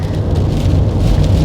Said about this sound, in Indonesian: Hari ini cuacanya hujan gitu.